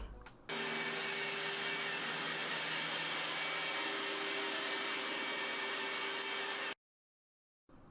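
A loud, steady whooshing motor drone of an iRobot Roomba Combo 10 Max robot vacuum cleaner, around 70 dB, runs for several seconds, then cuts off abruptly into silence before a faint return.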